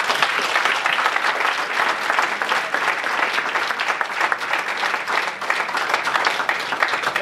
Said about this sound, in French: On peut acclamer le Seigneur pour elle.